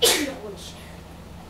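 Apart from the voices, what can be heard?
sneeze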